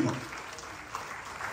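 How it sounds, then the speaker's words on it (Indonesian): A church congregation applauds during a worship service, a faint, diffuse wash of clapping heard from a distance that holds steady and unbroken for the whole short stretch. "Beri tepuk tangan yang meriah lagi."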